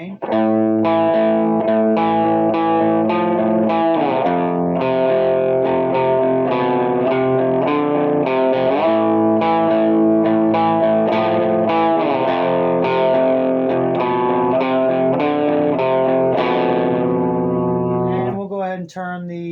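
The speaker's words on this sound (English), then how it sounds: "And we'll add a little bit more distortion or gain." Electric guitar through a Krank Rev SST amp with extra gain, dense distorted chords droning loudly and steadily for the whole stretch, close and alone with no voices.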